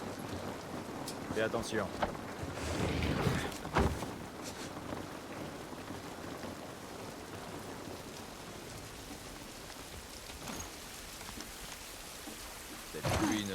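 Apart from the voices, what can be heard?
rain falling in The Last of Us Part I video game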